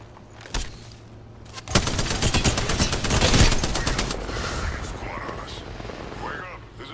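In a video game firefight, a dense burst of rapid gunfire rattles loudly for several seconds after a single early shot, then tapers into a noisy rumbling background with faint voices underneath.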